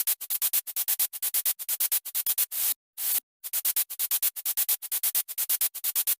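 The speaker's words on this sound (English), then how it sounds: "finally, I use this white noise with sidechain automation clip" Burst of white noise with sidechain automation from a house music drop, pumping in rapid rhythmic chops with one longer sustained swell midway, loud and alone.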